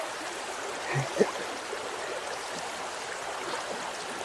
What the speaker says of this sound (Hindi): यहाँ पानी का तेज बहाव है